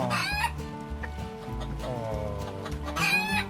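Chickens cluck and squawk in a farmyard setting on the Amalfi Coast in Italy, with steady busy fowl calls over background music-like tones and clear bursts of louder clucking near the start and end.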